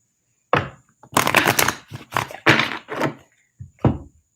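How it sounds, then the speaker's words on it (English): Tarot cards shuffled by hand in a series of crisp riffling bursts with short pauses between them, close and fairly loud, with no talking. "Last shuffle."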